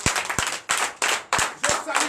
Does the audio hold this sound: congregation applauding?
yes